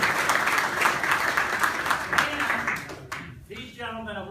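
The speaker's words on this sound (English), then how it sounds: "Would you all give him a round of applause?" Attendees at a RAM Coffee Cabinet meeting give a round of applause for a senior games medal winner, brisk group clapping for about three seconds that fades as a voice starts speaking.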